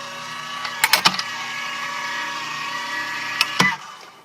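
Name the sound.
Tim Holtz Sizzix Vagabond electric die-cutting machine running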